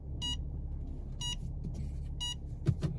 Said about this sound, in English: immediately beep, because there is an obstacle there